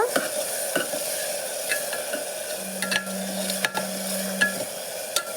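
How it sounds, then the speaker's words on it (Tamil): Onions and tomatoes sautéing in oil for a beetroot and green pea biryani, a steady sizzle broken by repeated clinks and scrapes of a spoon stirring in the pan, with no voices. "வெங்காயம் தக்காளி இன்னும் கொஞ்சம் நேரம் வண்ணங்கட்டும்"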